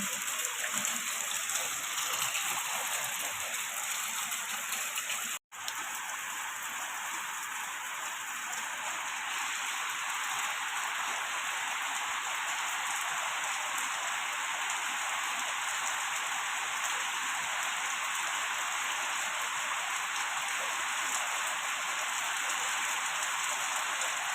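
Heavy rain pours steadily onto a flat concrete terrace roof, a loud unbroken hiss of drops and runoff with one brief dropout.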